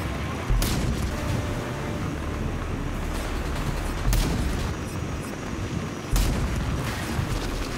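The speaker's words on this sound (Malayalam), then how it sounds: "ഗൈസ് ട്രക്ക് പൊട്ടി, ഗൈസ് ട്രക്ക് പൊട്ടി" A truck blowing up in Rage 2: three heavy booms at irregular intervals burst out over a loud, continuous rumble of gunfire and engine noise, with no speech.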